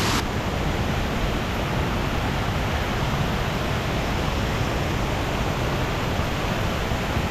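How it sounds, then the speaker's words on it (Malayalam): A small waterfall at Vazhvanthol in Trivandrum sends a steady, full broadband rush of falling water through the whole stretch, close and unbroken, with no voices. "ഇതാണ് കേട്ടോ ചെറിയ ആ ഒരു വെള്ളച്ചാട്ടം"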